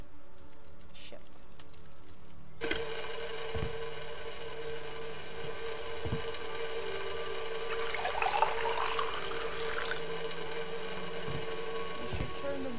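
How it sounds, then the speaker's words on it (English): Water running from a tap inside a yurt, a steady hissing flow starting abruptly and continuing with splashing variation, with occasional knocks and faint background sounds. "You should turn the water off."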